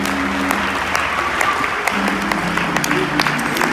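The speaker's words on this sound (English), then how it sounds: "Give the Lord one more hand clap of praise." A church congregation claps in praise, a dense steady round of hand claps with sustained tones from an organ or keyboard beneath and a few louder claps standing out.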